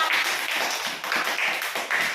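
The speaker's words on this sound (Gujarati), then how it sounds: "તાળી પાડો અક્ષર આપો બેટા" A group of children at an anganwadi preschool clap together in quick, rhythmic bursts, fairly close and steady, with no talking.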